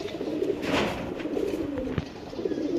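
A big-sized pigeon coos close by, with a couple of soft, throaty rolling calls filling the short stretch without any talking.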